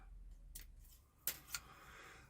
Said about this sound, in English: Great pair of scissors here.